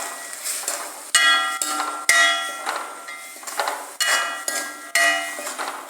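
A metal spoon stirs a chickpea stir-fry with green chilli, onion, turmeric, cumin and curry leaves in a pan, striking it in repeated sharp clinks and scrapes about once a second, close and with no talk.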